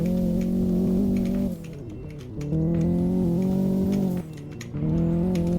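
A tuned Honda Civic Type R engine drones loudly on a race track, its note dipping twice as the driver lifts and then rising again with quick rev-matching blips, with no voices.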